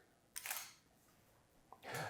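Two separate mechanical clicks from a single-lens reflex camera shutter, close and fairly quiet, with a pause of over a second between them and no talking.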